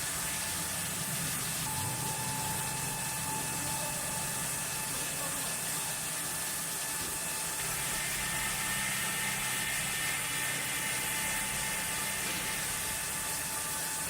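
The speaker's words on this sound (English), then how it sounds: "The sawmill continues its relentless pace." Sawmill machinery runs at a steady, relentless pace while cutting redwood timber into lumber. The sound is a continuous dense mechanical whir with hissing and faint rattling from moving parts.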